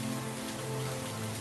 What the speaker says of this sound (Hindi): बाहर आषाढ़ का पानी बरस रहा है।